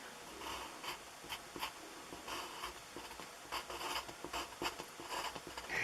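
A pen or pencil draws a title block on a paper sheet, producing soft, steady scratching with short repeated strokes, quiet and close, with no talking.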